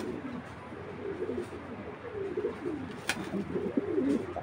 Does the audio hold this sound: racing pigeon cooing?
yes